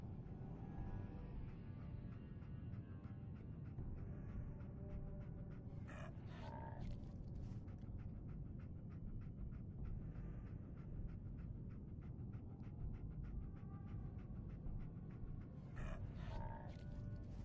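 A dog pants rapidly and steadily in a video game, close and continuous throughout, with a couple of brief sharper sounds partway through.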